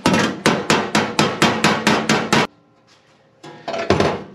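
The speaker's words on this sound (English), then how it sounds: "Let me see if I can hammer on the back here though" Loud, rapid metallic hammer strikes on the rusty metal panel of a 1953 GMC truck in a steady rhythm, about ten blows, then a brief pause before a few more hits.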